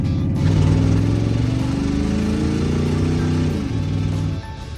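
A turbocharged V8 police car with custom exhaust, EFI and an intercooler drones at steady speed, its loud engine note holding smoothly then easing slightly near the end.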